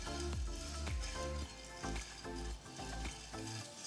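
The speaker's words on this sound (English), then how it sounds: "Dry roast all the ingredients till you get a nice aroma." Whole spices for masala dry roasting in a pan: coriander seeds, cumin seeds, peppercorns, cardamom, cloves and cinnamon. They sizzle steadily while being stirred, with repeated scraping strokes under a constant crackling hiss.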